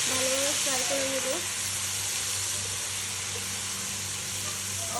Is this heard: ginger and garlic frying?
yes